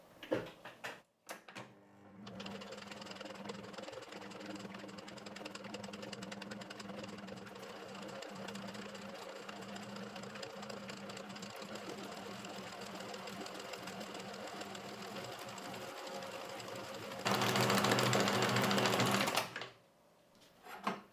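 An electric mixer whirs steadily and close while beating cold pastry cream in a bowl until smooth. The pitch rises briefly near the end before it stops, with no talk.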